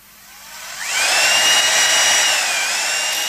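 A power drill bores a 1 cm hole into a medieval tomb, whining up after a short lead-in and holding a steady, loud, high-pitched grind with no voices.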